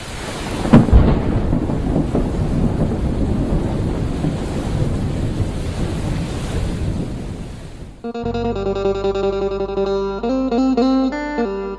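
Heavy rain pours steadily during a thunderstorm in the countryside, with a loud thunder crack near the start over the constant downpour, before music takes over for the final seconds.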